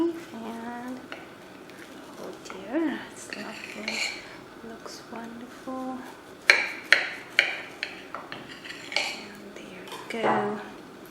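A knife cuts through a hot, freshly baked carrot cake with a few soft scraping strokes, then a run of sharp clinks and taps of metal against a plate or pan, close and fairly loud, with brief light voice sounds in between.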